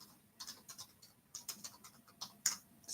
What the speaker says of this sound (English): Type that in.